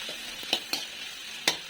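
Puffed rice mandalu stirred in a pan with lemon salt, giving a steady low sizzle broken by a few sharp scrapes of the spoon against the pan.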